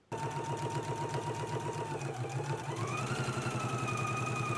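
A home sewing machine runs a steady, rapid stitching rhythm along seam binding on a McCall's M8658 garment, close and continuous, its motor pitch rising slightly partway through.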